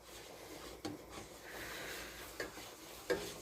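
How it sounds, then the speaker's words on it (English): A flour mixture for mac and cheese is stirred in a pot on the stove, giving a soft continuous scraping sizzle with a few sharper knocks of the spoon against the pot. "And constantly stir it because we don't want this to burn."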